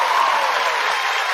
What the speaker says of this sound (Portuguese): Gostaria que vocês aplaudissem assim.